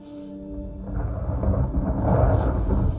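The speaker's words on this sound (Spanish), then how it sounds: "Hay que resguardarnos de la lluvia." Thunder rolls in a deep, rumbling swell over a steady wash of rain in the video game Wolfenstein Youngblood, building louder toward the end with no speech.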